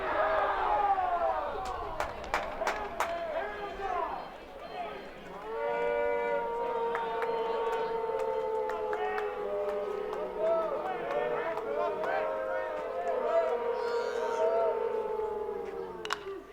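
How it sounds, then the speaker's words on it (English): Low droning crowd boo chant held like a hum through a batter's at-bat at an Indiana State vs ECU college baseball game, a sustained murmur from the stands under continuous play-by-play talk. "you get the little boo chants that are going on out in the jungle, and they maintain that"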